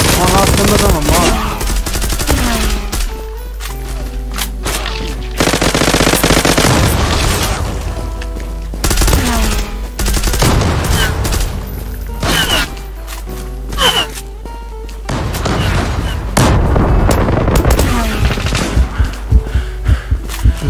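Rapid bursts of video game gunfire in a racing-style multiplayer match, repeated loud volleys and single shots with booming impacts, continuing throughout with a voice talking intermittently.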